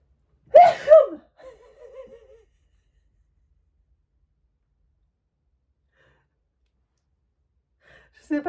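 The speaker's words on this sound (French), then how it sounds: "Je vais éternuer." A single sharp sneeze bursts out close up, followed by a brief faint murmur, then near silence until a short sound at the very end.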